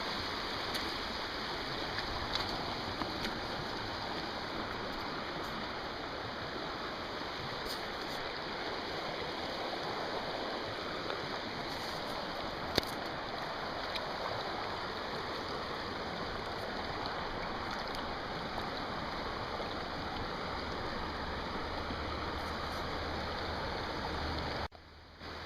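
A Pennsylvania trout creek flows in spring with a continuous, even wash of moving water that holds steady and fairly close for the whole stretch, with no voices.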